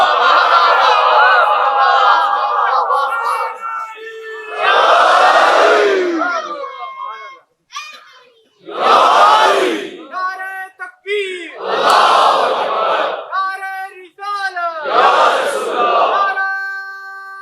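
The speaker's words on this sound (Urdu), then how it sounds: "کیونکہ بچے بھی آج نعرے بھی لگا رہے ہیں" Children in a crowd at a Muharram majlis in Rawalpindi chant slogans in loud, repeated bursts, each a few seconds long with short pauses between, rising together near and forceful.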